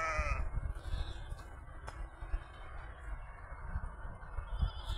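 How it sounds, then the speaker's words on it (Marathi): Goats from a shepherd's flock at a sugarcane field bleat once near the start, then the outdoor murmur and rustle of the animals continue without further clear calls. "हे बघा हे बकरी बी आहेत."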